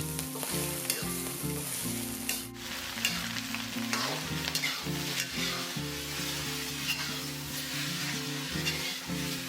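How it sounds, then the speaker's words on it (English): Rice vermicelli noodles with fish sauce stir-fry in a wok for Hokkien prawn noodles, a continuous loud sizzle with repeated scraping tosses over steady background music, with no talking. "Stir-fry until the noodles are fragrant."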